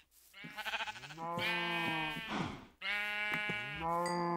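Two long wavering sheep bleats from the Minecraft video game, clear and close with a short pause between them and no speech.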